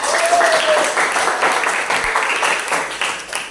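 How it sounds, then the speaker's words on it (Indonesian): A classroom of students claps for a classmate in a mathematics lesson, a loud burst of applause from many hands that fades slightly toward the end, with a brief whistle-like tone early on. "Tepuk tangan untuk Mega."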